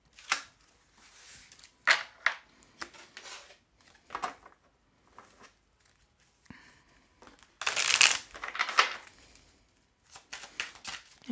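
Oracle cards shuffled by hand for a thirteen-card reading, a series of soft, close riffling and rustling bursts with brief pauses between, louder toward the end.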